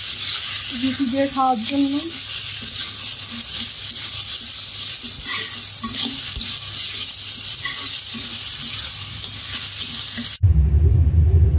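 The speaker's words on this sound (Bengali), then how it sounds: "সকালের নাস্তা ভাজি বানাচ্ছি" Vegetable bhaji for breakfast frying and being stirred in a pan, a steady loud sizzle running throughout with occasional scraping, while someone speaks briefly over it near the start.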